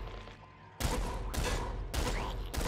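Triple blood gun firing in the Nuclear Throne video game: two loud bursts of noisy gunfire blasts, each lasting about half a second to a second, separated by a brief gap, with low game sound underneath.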